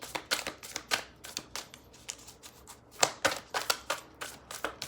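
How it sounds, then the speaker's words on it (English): A deck of tarot cards is shuffled by hand in a series of crisp, rapid riffling bursts and papery slaps, close and fairly quiet, with no talking. "I'm gonna make sure these have a nice, good shuffling."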